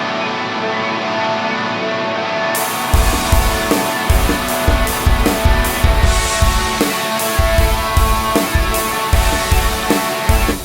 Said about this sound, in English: And then we have all of these guitars.